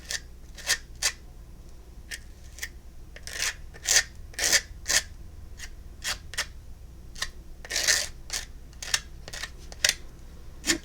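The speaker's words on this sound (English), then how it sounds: "Try to just scrape off some more," Rhythmic scraping strokes removing a dried glittery coating, a series of short close rasping bursts at irregular intervals over a quiet background.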